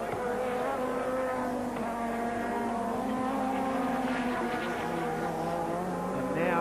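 A touring race car, number 36, laps Sandown raceway during the 1989 Sandown 500, its engine howling at high revs with pitch shifting as it works through the gears, loud and continuous.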